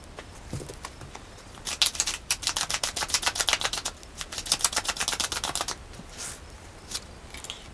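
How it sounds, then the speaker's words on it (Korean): Tarot cards shuffled by hand, a dense run of quick crisp riffling flicks in two bursts, with a few scattered taps before and after, close and quiet. "카드를 조금 더 뽑아보고 이야기해 보도록 할게요."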